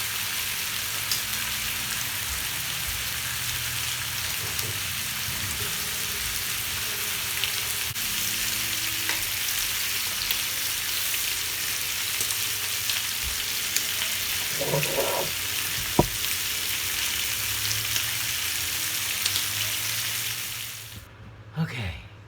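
Bacon and sausage sizzling in a frying pan, a steady loud crackling hiss that runs throughout with occasional pops and utensil clinks, fading out near the end.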